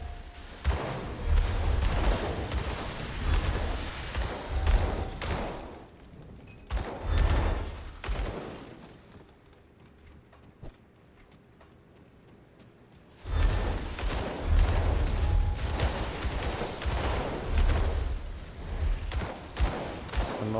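Dual pistols firing in the video game Grim Dawn, with rapid volleys of shots in dense bursts that stop for a quiet stretch and then resume.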